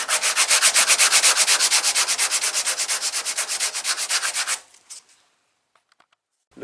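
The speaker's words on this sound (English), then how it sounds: "It's a lot of sanding, a lot of sanding." Car bodywork being hand sanded during dent repair and primer prep: a rapid, rhythmic back-and-forth scraping of abrasive on the panel, loud and close, about two strokes per second, stopping suddenly and followed by a few faint taps.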